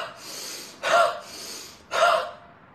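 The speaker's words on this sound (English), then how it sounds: "All you need to do is deep breaths and cough." A person takes sharp, deep breaths, two forceful gasping inhalations spaced about a second apart over softer airy breathing, close and without talk.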